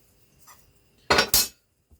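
Metal cutlery is cut for a scrap sculpture of a red deer stag, heard as a short, bright two-part metallic snip and clink after a quiet lead-in.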